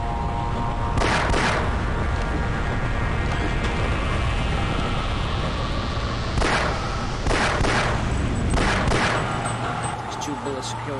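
Gunfire in the 1998 first-person shooter Half-Life, with a few separate bursts of shots over a dense, steady in-game background, the clusters spaced several seconds apart.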